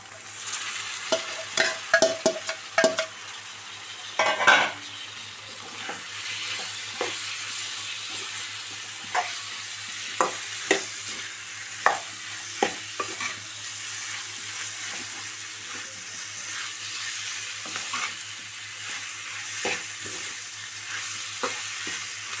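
Cooked cauliflower in a frying pan is stirred with a spoon, giving repeated sharp scrapes and clinks over a soft, steady sizzle, with no one talking.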